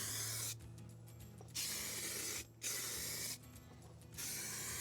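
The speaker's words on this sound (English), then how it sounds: "Now we're going to do a heavy clear coat, and you can see it's going on wet as opposed to there where it's going on dry." A spray can lays heavy clear coat onto car wheels in three separate hissing bursts, each about a second long, with short quiet gaps between, close and fairly soft.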